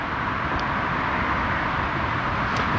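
Steady, dense roar of heavy M1 motorway traffic rushing past below a bridge, continuous broadband noise with no breaks or voices.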